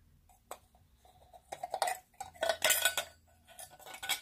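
Metal parts of an Esbit percolator coffee maker clink and clatter as they are handled: a mesh filter screen, a gasket and a percolator stem, giving scattered light knocks that build to a busier cluster of close metallic rattles.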